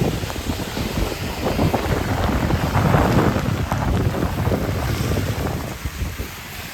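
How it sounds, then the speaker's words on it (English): Strong wind buffets the microphone on a rainy Manhattan street at Columbus Circle, a loud rushing gust that swells and eases, with rain hiss underneath. "You can just see how much the wind is picking up."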